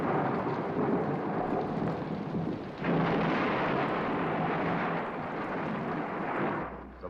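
Heavy rain pours steadily as deep thunder rumbles through a thunderstorm, with a sharper surge of noise partway through.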